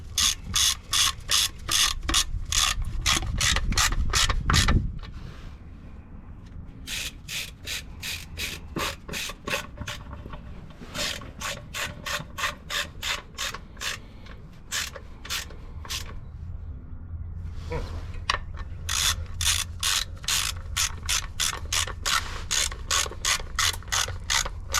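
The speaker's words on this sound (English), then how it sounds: "I'm going to go ahead and snug the rest of these down, just hand tight" Ratchet wrench snugging small oil pan bolts on a Nissan Quest, with repeated rapid clicking strokes in several runs and brief pauses between them, close and fairly loud.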